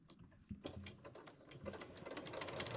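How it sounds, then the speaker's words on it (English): Sewing machine stitching fabric at a quarter-inch seam: a rapid, steady mechanical chatter that starts after a brief pause and grows louder, close up, with no talk. "let's go over the sewing machine and we'll sew that down at a 1/4 inch."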